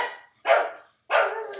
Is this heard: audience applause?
no